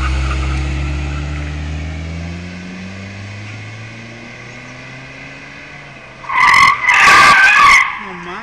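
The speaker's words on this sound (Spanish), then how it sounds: "Entre más rápido hacen el giro, obviamente el coche gira más sobre el propio eje" A car spins on its own axis around cones, engine droning and fading before a sharp burst of tire squeal and skidding near the end, loud and close.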